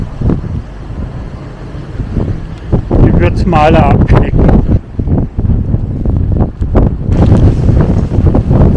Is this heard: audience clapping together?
no